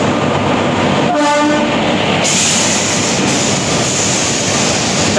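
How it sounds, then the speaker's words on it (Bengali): The Doon Express rolls into a station platform with a loud, close rumble as its horn sounds once briefly near the start, followed by continuous heavy rail noise. "চার নম্বর প্ল্যাটফর্মে আমাদের ট্রেন ঢুকে গেল,"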